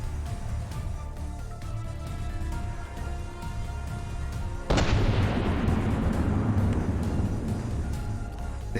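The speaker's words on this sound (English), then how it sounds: "the Iron Maiden is still firing on it, though at much reduced efficiency" Heavy gunfire from warship turrets in From the Depths, a steady dense barrage with a sudden loud burst of blasts midway that keeps rumbling and crackling to the end.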